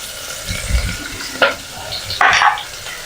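Sliced onion dropped into hot oil with bay leaves in a pan, a close sizzling hiss broken by a couple of sharp stirring scrapes and bursts of frying.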